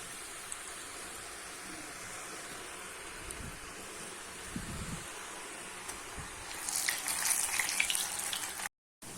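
Ribbon pakoda dough made from idli parboiled rice, with garlic, fries in hot oil, a soft steady sizzle and hiss that grows brighter and more crackly toward the end, quiet and without talk.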